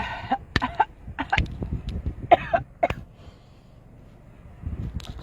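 A person coughs hard several times in quick bursts after a cough drop goes down the throat, close up and strained, then falls quiet before a faint final sound.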